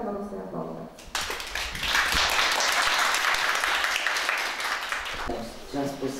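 Audience applause for the Harnean eco-family at a Litter Less event, a dense sustained wash of clapping lasting several seconds, with a voice speaking briefly before it swells and again as it fades.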